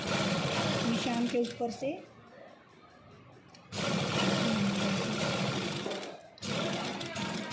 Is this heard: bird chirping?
no